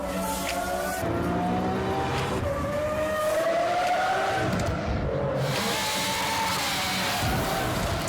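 A tuned car engine revs loudly and continuously with a rising, sweeping pitch and raspy exhaust tone, with no talk.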